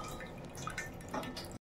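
Water from cooked toor dal drains through a strainer, a soft continuous trickle with light dripping that stays faint and even, then cuts off abruptly.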